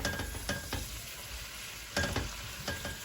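Cumin seeds and green chili sizzle and crackle in hot oil in a pan for a chickpea lentil and bitter melon dish, with steady frying hiss broken by a few louder stirring scrapes, up close.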